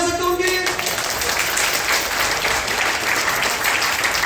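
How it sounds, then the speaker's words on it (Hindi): An audience in a lecture hall claps together in steady, sustained applause, a dense wash of hand claps that continues at even loudness throughout. A voice is briefly audible at the very start. "तालियां बजा सकते हैं उनके लिए?"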